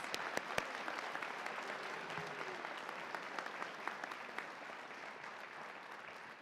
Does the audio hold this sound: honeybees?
no